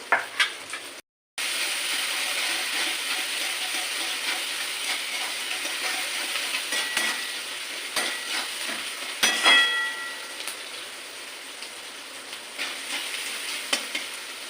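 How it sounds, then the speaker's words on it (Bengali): Eggplant fried together with onion in a pan gives a steady close sizzle with stirring scrapes and occasional spatula knocks, continuous throughout and unaccompanied by talk. "এবার পেঁয়াজের সাথে ভালো করে ভেজে নেবো"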